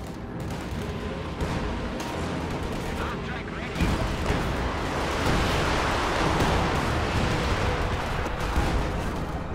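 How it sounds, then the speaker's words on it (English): Artillery from Sturmpanzer and Panzerwerfer units in a World War II strategy game rumbles as dense, overlapping booms and blasts, swelling louder midway into a sustained barrage. "Field gun destroyed by Sturmpanzer fire and Panzerwerfer fire."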